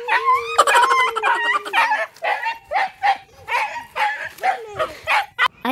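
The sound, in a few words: dog barking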